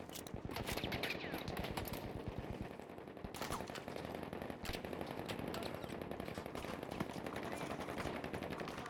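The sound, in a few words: gunfire in the video game Battlefield V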